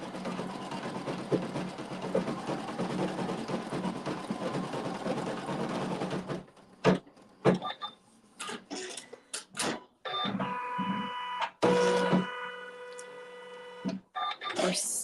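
An embroidery machine stitches quilting in a dense rapid mechanical whir, then switches to intermittent bursts of stitching and clunking motor movements, with a voice talking in the background.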